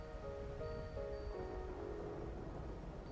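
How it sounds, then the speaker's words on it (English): Rain in the video game Wuthering Waves falls as a soft, steady hiss with faint rumbling, heard quietly with gentle sustained musical tones over it. "A bit rainy too."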